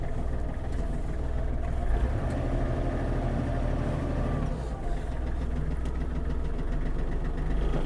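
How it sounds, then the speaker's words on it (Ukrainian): A Kubota GL-29 mini tractor engine runs steadily as the tractor pulls away in first gear, producing a continuous close, even diesel drone with no voices heard. "Включаю першу, трактор їде."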